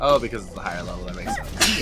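A sudden sneeze bursts out near the end, loud and close, right after people chat casually in the room while discussing a video game character.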